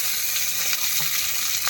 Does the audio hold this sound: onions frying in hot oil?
yes